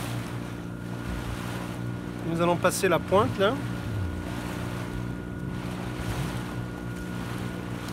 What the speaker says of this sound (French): nous allons au moteur parce que là c'est pétole